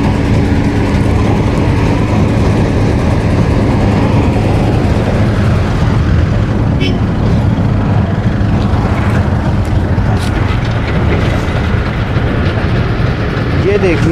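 A tractor engine drones steadily and loudly while it loads a crop-residue bale of 4.5 to 5 quintals into a trolley, a heavy mechanical rumble running throughout, with a voice speaking over it.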